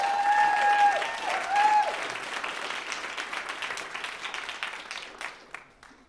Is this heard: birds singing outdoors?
no